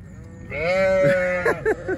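A sheep bleats loudly and close by, one long wavering call followed by a few shorter broken bleats, alone with no talk.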